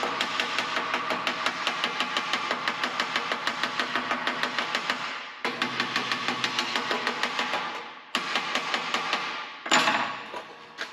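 Rapid, evenly spaced hammer blows ring out on a misshapen sheet metal edge of a Ford Transit van in quick bursts, pausing briefly a few times before resuming, close and sharp.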